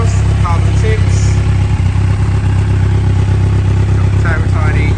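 A 2011 Kawasaki Ninja ZX1000 motorcycle with a twin Akrapovic exhaust and carbon tips idles steadily, a loud, close, even rumble throughout, with faint voices in the background.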